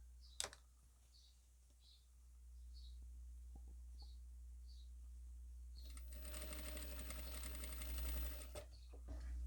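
A sewing machine stitches fabric in short bursts with soft clicks between them, then settles into a longer, steady whirring run near the end. It sounds close and fairly quiet.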